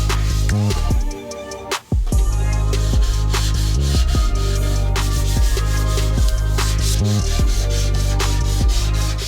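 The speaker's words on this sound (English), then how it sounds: "So we got the trunk all sanded down. We did a 220, and then we did a final pass with the 400." Hand sanding a car trunk lid with 220 and then 400 grit sandpaper while the wing is fitted to a Nissan R32 GTS-T: steady back-and-forth rubbing strokes in a regular rhythm, close and fairly loud, with one short pause.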